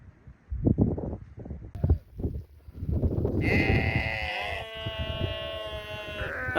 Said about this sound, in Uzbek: Qo'ylar.